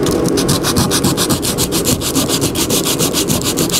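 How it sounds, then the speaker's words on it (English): 80-grit sandpaper rubbed by hand over a surface on an Atari 720° arcade cabinet being prepped for paint, a loud, rapid, even rasping with back-and-forth strokes about five per second, close and alone. "I'm just coming in here by hand with some 80 grit."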